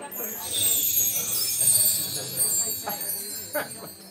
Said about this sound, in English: Can you hit a little chime for me